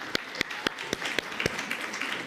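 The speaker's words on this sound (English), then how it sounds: "A round of applause to them." Sparse, individual hand claps from a small audience at an international education forum, a handful of distinct sharp claps spaced irregularly over a low room hum, fairly near.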